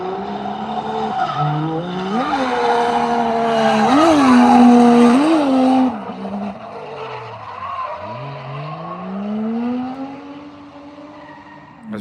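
Drift car 72 at Ebisu Circuit in Japan during drift practice, its engine surging through clutch kicks as the revs rise and fall, tires squealing loudly through a slide before the note fades and drops away.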